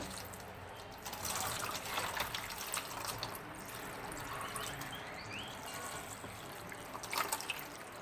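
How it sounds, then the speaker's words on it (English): Water splashes steadily into a roasting pan holding a tri tip roast with onions, a continuous close pour with a few louder gushes near the start and the end. "I'm just going to add some water into the pan."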